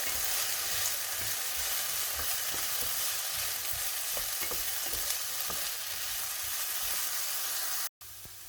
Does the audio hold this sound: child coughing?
no